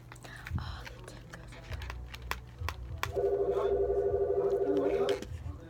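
An office telephone rings once for about two seconds, a steady warbling electronic tone, preceded by scattered small desk taps and handling clicks close by.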